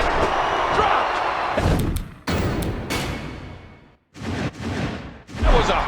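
In the WWE 2K14 wrestling video game, a wrestler is slammed onto the mat with a loud impact thud, heard against continuous crowd roar and game noise, with more heavy thumps after it.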